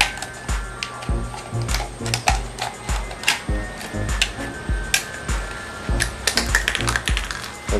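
Scissors cut through a plastic bottle up close, making a rapid series of crisp snips and crackling clicks with a steady rhythm across the whole stretch.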